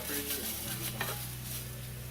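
Rice going into a hot pan and being stirred gives a low steady sizzle with light scraping and a faint clink of a utensil, the sound fairly quiet throughout.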